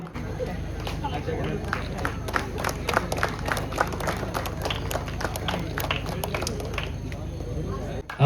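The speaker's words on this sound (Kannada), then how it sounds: "ಒಂದು ಜೋರದ ಚಪ್ಪಾಳೆ ಬರಲಿ" Crowd clapping for 10K and 5K finishers at a marathon event, a dense, steady patter of many hands close by, running continuously throughout with a busy crowd murmur underneath.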